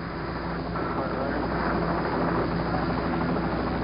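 Apollo 11 recovery helicopter hovering low over the ocean surface near the spacecraft, a continuous, fairly loud rotor and engine drone with no break, carried on a narrow-band broadcast feed.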